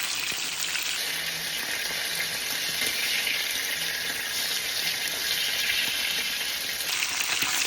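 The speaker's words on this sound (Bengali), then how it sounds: "তো আমি এই যে মাছগুলো দিয়ে দিচ্ছি একে একে ভাজার জন্য।" Salmon pieces frying in a pan give a steady, moderately loud sizzle that holds evenly throughout with no talk, a dense crackling hiss close to the pan.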